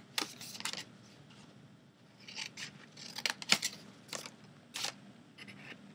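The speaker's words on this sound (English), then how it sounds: "you're gonna take your scissors and cut to that first score line that you see in the center" Scissors snip through paper in a series of short, crisp cuts with brief pauses between, close and fairly quiet, with no one talking.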